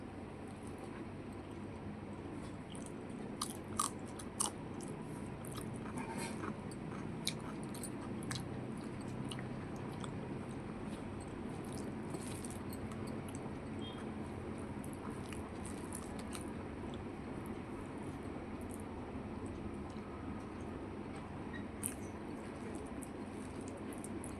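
Close mukbang-style eating of boiled potatoes, with soft repeated chewing and biting clicks over a steady, even background hiss that runs throughout, and no talking.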